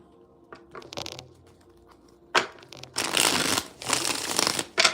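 Tarot cards are shuffled in a few short riffles, then a longer, louder burst of crisp shuffling closes it out.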